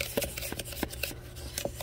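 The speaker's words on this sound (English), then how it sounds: "I'm going to mix it in my sand" Paint is mixed into sand with a tool, producing soft gritty scrapes and rubs in an uneven rhythm, close and quiet, with a faint background hum.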